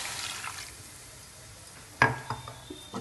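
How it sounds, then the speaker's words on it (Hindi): A cup of water is poured into a pan holding onion, garlic cloves, ginger and cashews, giving a brief splash with a clatter, followed by a few softer clinks against quiet kitchen background noise. "इन सभी को डाल के इसमें डालेंगे 1 कप पानी।"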